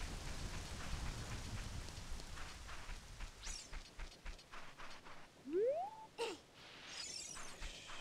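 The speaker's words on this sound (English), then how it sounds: "It's raining." Steady rain in the video game Zelda: Ocarina of Time, a soft continuous hiss with a few brighter chime-like game sound effects and a rising tone over it, no voices.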